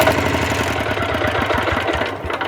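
A walk-behind motoblock tractor engine runs nearby, loud and steady, with a rough chugging low-frequency pulse throughout and no talk.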